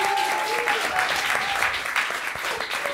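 Applause from an event audience at Apogee Studios, a dense, steady wash of clapping that holds for the whole stretch, with faint voices and whoops mixed into the crowd.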